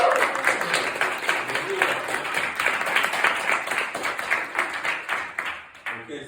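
Lively audience applause at a Toastmasters club meeting, many hands clapping together in a full burst that thins and fades toward the end, with a voice briefly heard beneath it.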